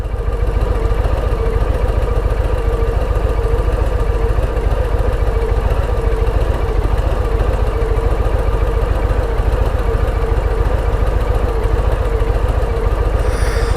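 A Harley-Davidson Low Rider ST motorcycle engine heard while riding on Texas roads, a loud, steady low rumble with constant vibration and no breaks, close to the microphone and without speech.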